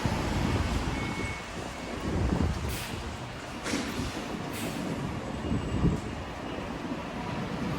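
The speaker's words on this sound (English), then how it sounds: "And there it goes, off to Cross Harbour." A DLR train pulls away from Canary Wharf station with a steady rumbling roar that swells and fades slightly, accompanied by wind buffeting the microphone, with no talk.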